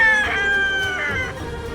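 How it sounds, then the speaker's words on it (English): A farmyard rooster crows loud and close, a sustained strained call with two rising pulses, alone without talk. "the cock's crow, which can be heard in farmyards across the country"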